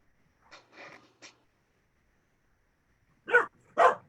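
A pet dog gives a few short barks and yips, a quick cluster of three followed after a pause by two louder, sharper barks, fairly close in an otherwise quiet indoor room.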